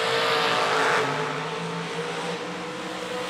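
Folk race cars roaring together in a Thursday warm-up race at a dirt-track event, a loud continuous engine drone with revving rising and falling as the pack runs, no voices heard.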